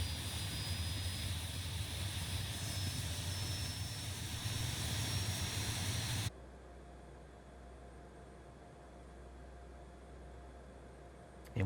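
Embraer E170 jet engine spooling in Microsoft Flight Simulator, a steady broad roaring hiss with a thin high whine that drops abruptly to a quieter, duller hum about halfway through, with no talk.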